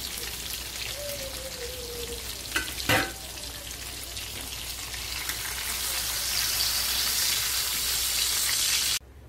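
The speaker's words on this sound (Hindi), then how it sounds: "मच्छी फ्राई हो गई" Pieces of karkara fish fry in hot oil with a continuous close sizzle and crackle. A brief utensil clatter comes early, the sizzle grows louder toward the end, and then it cuts off abruptly.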